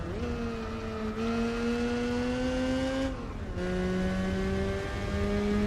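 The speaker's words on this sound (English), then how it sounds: "Mazda RX-8, yeah. It's a rotary engine." A Mazda RX-8 rotary engine in Gran Turismo 4 holds a steady, buzzy drone whose pitch climbs slowly, dips once and then rises again, loud and continuous with no talk.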